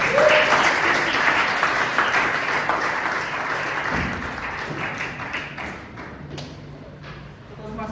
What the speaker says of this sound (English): Please with a huge round of applause, welcome Toastmasters